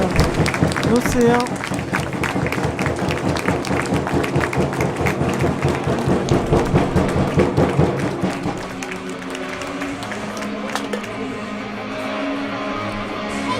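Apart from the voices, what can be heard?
audience applause at a hockey match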